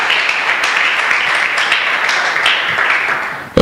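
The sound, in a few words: church congregation applause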